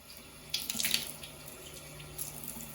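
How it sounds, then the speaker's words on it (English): Water runs from a tap while shampoo and hair mask are rinsed out of hair, a steady splashing stream that grows louder as the hair moves under it, with no talking. "So I'm gonna go ahead and rinse my hair off."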